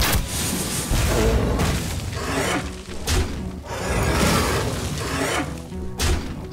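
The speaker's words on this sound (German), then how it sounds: "dann spielen wir jetzt erstmal die Heilige Nova" Holy Nova spell cast in the Hearthstone video game, a series of loud shattering, booming magical bursts and whooshes repeating in waves, with no talk over them.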